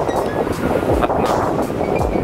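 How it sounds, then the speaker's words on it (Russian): Strong wind buffets the microphone in a continuous loud roar, gusting unevenly throughout with no other clear sounds, outdoors near Schönbrunn Palace in Vienna. "Ветер, конечно, вообще жесть."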